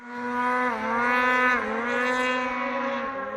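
A Polaris RMK turbo snowmobile engine revs steadily at close range, its strong harmonic drone rising and dipping slightly in pitch over a few seconds, loud and with no one talking.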